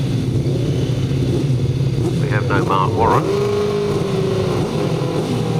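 Speedway motorcycles rev at the start line before the tapes rise, a loud sustained engine drone with rising pitch sweeps, under an announcer's voice.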